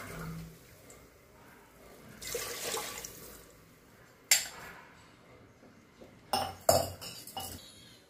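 Water is poured from a glass into a pot of rice being cooked for Nilanga rice, in two or three short splashy pours with light metallic clinks, close and fairly quiet, no talk.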